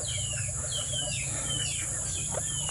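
Ducks on a farm quacking and calling steadily and fairly close, with overlapping calls over a constant low hum and a high background whine.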